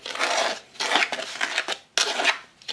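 Corn flour dough for carp bait is worked in a bowl, giving soft scraping, clinking strokes in a few uneven bursts, fairly close and quiet.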